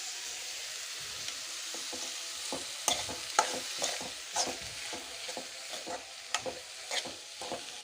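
Chopped onions with grated ginger and turmeric frying in a pan, a soft continuous sizzle with scattered stirring clicks and scrapes, close but fairly quiet.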